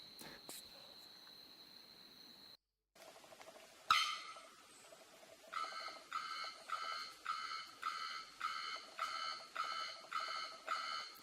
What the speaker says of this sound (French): Ça, c'était le bruit de mon réveil le matin